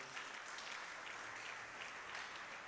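A concert audience applauding, a dense, steady wash of clapping that sounds fairly distant and quiet, sustained throughout without speech.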